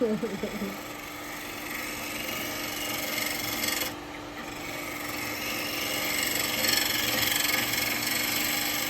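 A spindle gouge cuts a spinning wood blank on a lathe, a continuous rasping, hissing scrape that holds steady, pauses briefly midway, then resumes under the lathe's hum.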